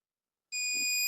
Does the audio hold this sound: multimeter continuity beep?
yes